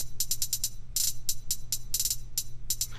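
Bursts of bright, hissy percussive sound ring out with a wet, spacious reverb tail, over a steady low hum.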